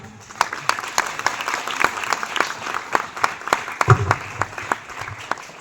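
A loud round of applause from an audience honouring the founder of Pahalwan Gurudeen Group of Colleges, with many hands clapping densely and steadily, and sharp individual claps standing out throughout.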